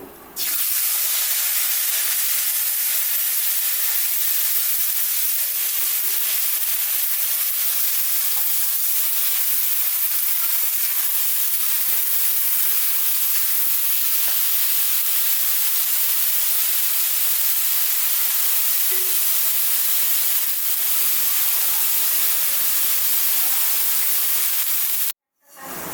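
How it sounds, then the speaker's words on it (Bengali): Washed mung dal frying in hot oil in a wok gives a loud, continuous hiss and sizzle that runs steadily for about twenty-five seconds, then cuts off abruptly. "এবারে ধুয়ে রাখা ডালটা দিয়ে দেবো।"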